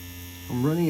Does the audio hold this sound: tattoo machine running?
yes